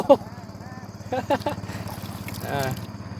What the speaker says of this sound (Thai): ทีมหาปลาทำกันครับ ขี่เรือผ่านมา